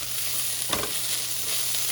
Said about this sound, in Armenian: գազարը ես սոխը տապակում եմ